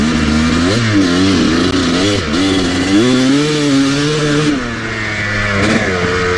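A Kawasaki KX250 dirt bike engine revs loud and close, its two-stroke buzz climbing and dropping through repeated throttle blips with no voices.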